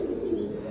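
A pair of silver pigeons coos softly in a loft, one brief low, throaty murmur close by.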